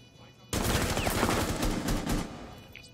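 Rapid bursts of gunfire in a Rainbow Six Siege match, loud and dense after a sudden start, continuing in overlapping volleys with faint voices mixed underneath.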